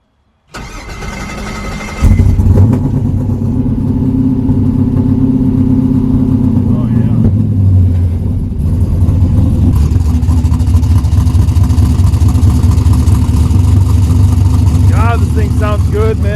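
An old junkyard-rescued Buick Skylark turns over and fires up after a moment of cranking, then settles into a steady, loud idle that rumbles on, with a voice speaking briefly over it near the end.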